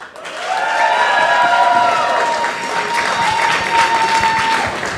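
An audience voting by clapping and making noise at a casual astronomy talk, with loud applause swelling quickly and holding, whistles and cheers rising above it, and some voices mixed in.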